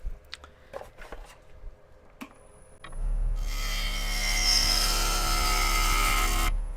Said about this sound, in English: I'm going to take one swooping cut up to just where this transition is to try to get rid of those little ridges